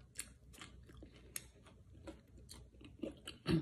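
Someone bites and chews crunchy fried dried fish (daing) close up, with a series of sharp, irregular crunches and softer chewing between them.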